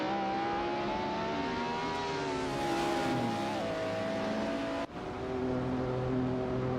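A Radical RXC and a Chevrolet Corvette C8 race in a simulated motorsport game, their engines holding a sustained high whine that shifts pitch with gear changes and a brief drop mid-run.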